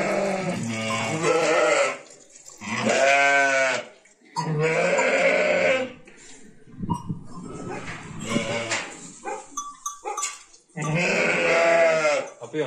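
Several loud, wavering bleats from Sönmez sheep and lambs close by during lambing season, repeating in bursts with short pauses and some rustling between them.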